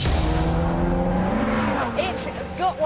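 Ferrari California with its new front-mounted 4.3-litre fuel-injected V8, a loud engine drone that rises and shifts pitch as the car accelerates, with tire noise and a voice talking over it.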